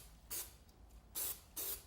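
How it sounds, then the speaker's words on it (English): Short hissing bursts of contact cement from an aerosol spray can, three separate sprays of varying length with brief pauses between them, close by. "I'll want to spray up to 8 corner blocks at a time"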